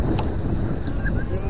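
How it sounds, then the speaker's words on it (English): Wind blowing outdoors at a pumpkin toss event, a steady low buffeting rumble across the microphone throughout, with faint background sounds. "The wind has picked up a little bit. It's become a little breezy."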